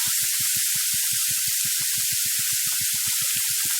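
Vegetables sautéing in oil in a pan for a samai sevai millet breakfast dish, a steady close sizzle with a constant bright hiss and small pops throughout.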